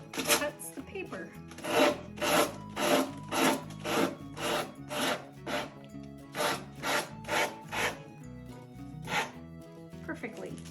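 A sanding block is pulled repeatedly down the paper edges of a decoupage piece, giving about fifteen close, rhythmic rasping strokes, each a short scratchy swell, with brief talk at moments.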